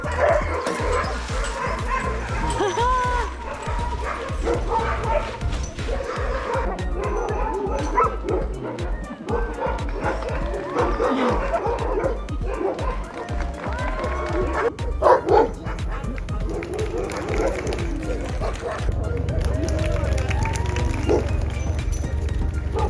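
Sled dogs at a Denali National Park sled dog demonstration in Alaska bark and yip continuously in a loud, busy chorus, with some whimpering and occasional voices in the background.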